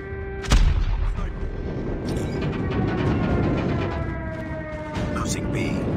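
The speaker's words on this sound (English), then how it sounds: "Friendly airstrike incoming" Airstrike blasts in Call of Duty Mobile: a sharp loud boom opens, then a dense rolling rumble of explosions and battle noise carries on, with a second hit near the end.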